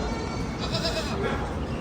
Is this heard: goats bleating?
yes